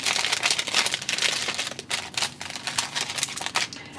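A cellophane bag crinkles sharply and continuously as Kit Kat bars are dropped into it, close and busy with quick rustling crackles throughout.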